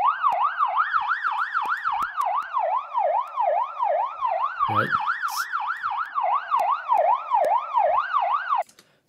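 A steady wailing siren in Wwise and Unreal Engine cycles rapidly up and down for several seconds, loud and near, with a brief spoken word and a few clicks partway through.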